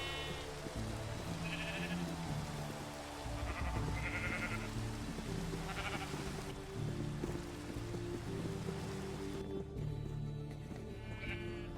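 Sheep bleat a few times in a Minecraft game, short mid-pitched calls over a steady layer of rain and ambient game sound.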